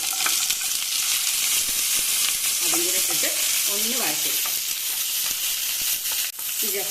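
Chickpeas and capsicum roast in a hot pan, giving a steady, close sizzle and fry hiss throughout with occasional stirring scrapes, and no voices.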